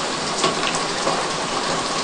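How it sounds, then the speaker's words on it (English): Heavy rain pounds steadily and loudly on a Cabela's Alaskan Guide Model geodesic four-person tent, a dense unbroken patter heard from inside, with no voices. "this rain is unrelenting, and it just keeps going"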